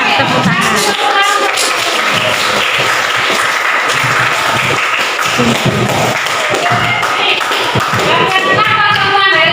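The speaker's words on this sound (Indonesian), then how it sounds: "Tepuk tangan." Classroom of students clapping together at the end of a lesson, dense and continuous with scattered cheers and voices mixed in, fairly close and loud throughout.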